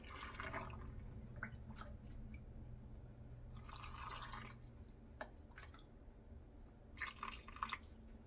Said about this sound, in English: this is just brand new clean water that I boiled separately that I'm ladling.